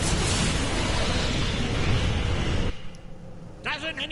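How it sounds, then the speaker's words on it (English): A big explosion from overloaded conduits in Star Trek Online, a dense roaring blast that fills the first few seconds loudly, then cuts off, leaving quieter game ambience with a short burst of sound at the end. "If I overload those conduits, I'm sure to make a big explosion."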